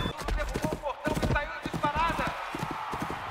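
Racehorses gallop in a race, a rapid, loud, rhythmic clatter of hooves close by, mixed with voices and race commentary throughout.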